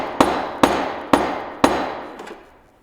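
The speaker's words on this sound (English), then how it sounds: "So we had to pound the telescope forward." Four sharp, evenly spaced hammer blows pound a telescope forward into its frame while the SuperBIT balloon telescope is being assembled. A fainter double knock follows, and each strike rings close and loud with no talking.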